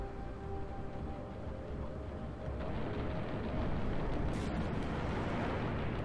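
Missiles pound enemy fighters in a Halo Reach space battle, a loud, continuous rumbling roar of explosions filling the whole stretch, swelling heavier in the second half.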